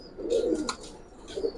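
Pigeons coo at a pigeon market, with a few soft, throaty calls rising and falling at close range and light chirping above them, no voices.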